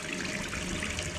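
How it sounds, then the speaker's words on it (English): Faucet running in the video game Gone Home, a steady, close hiss and splash of water pouring into a sink, uninterrupted and alone. "Turn faucet off."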